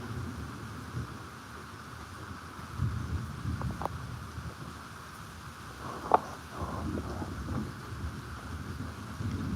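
Night thunderstorm with steady rain hiss and low rumbling thunder rolling through, a sharp crack midway, continuous and moderately loud, with no voices.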